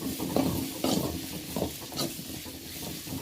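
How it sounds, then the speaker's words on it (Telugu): Carrot and bean pieces frying in a pan for vegetable fried rice, a steady sizzle broken by several scraping stirs of a spoon against the pan, close and moderately loud with no talking. "తర్వాత క్యారెట్ ముక్కలు క్యారెట్ ముక్కలు వేసి ఫ్రై చేయాలి ఇలా కొద్దిసేపు ఫ్రై చేసుకోవాలి"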